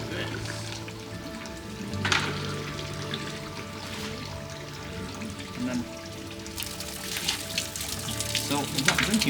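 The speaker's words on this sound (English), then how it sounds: "Is it a drinking fountain?" Water splashes steadily from a public fountain on a town street in Rothenburg, Germany, a continuous running flow with outdoor ambience and people talking faintly nearby.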